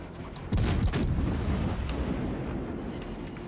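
Enemy ship gunfire in World of Warships, a sudden heavy salvo of several close cracks and booms that give way to a long rumbling roar, with no voices.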